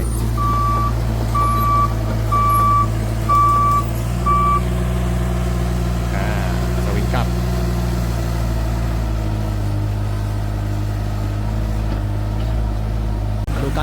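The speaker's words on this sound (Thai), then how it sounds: "สวิงบูมนะฮะดันดินปรับพื้นที่นะครับ" A new Cat 303.5 CR mini excavator clearing land as it swings its boom and pushes soil: a loud, steady diesel drone with a run of reversing beeps in the first few seconds.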